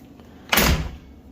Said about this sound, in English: You hear it's got a nasty pop when you go to shut the door.